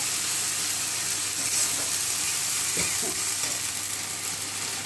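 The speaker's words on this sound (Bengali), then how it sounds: "এবার আমি ভালো করে ভেজে নেব মশলাটা।" Ground spice paste with garam masala fries in a hot pan for a chhena curry, giving a steady, close, dense sizzle with no talking.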